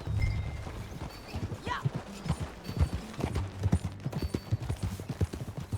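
Hooves clip-clop in a quick, uneven rhythm as a horse moves along in Red Dead Redemption 2, with a brief whinny early on and a short spoken word over the steady hoofbeats.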